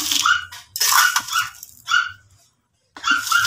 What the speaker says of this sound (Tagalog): Sobrang ingay ng aso na yan.